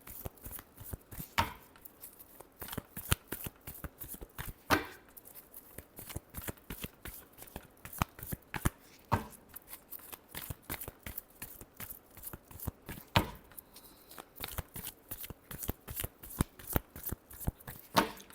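A deck of cards being shuffled over and over gives rapid, close riffling bursts and snapping flutters in a steady run, with no talk.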